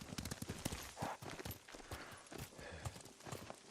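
Horses' hooves clip-clop in the video game Ghost of Tsushima, a quick irregular run of sharp hoof strikes, fairly close and quiet, with a soft whinny-like rise mixed in.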